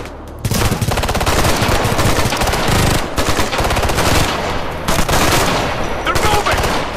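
Rapid automatic gunfire from a tactical shooter video game, Ghost Recon Future Soldier, in a firefight; dense, loud bursts and sustained rattling fire continue nearly the whole time with brief dips.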